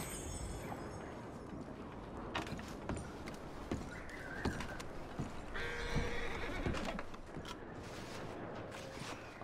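Horses in the Red Dead Redemption video game whinny and snort near and far, with scattered hoof clops and creaking tack over a rough outdoor background.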